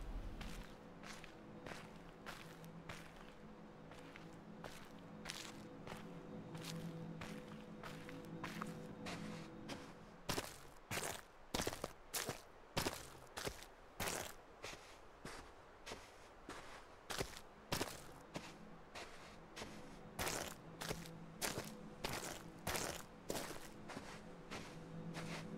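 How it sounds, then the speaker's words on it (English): Player footsteps in The Witness sound as a steady walking rhythm of crisp, close steps, softer and muffled at first, then sharper and louder on a harder surface for the second half. "Notice my footsteps are louder in some spaces."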